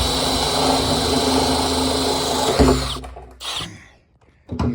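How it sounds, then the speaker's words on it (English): Power drill boring a series of holes through the side of a plastic barrel being built into an oil and grease trap, loud steady whine for nearly three seconds, then short separate bursts with pauses between them. "starting to drill the gazillion holes in the side of the barrel."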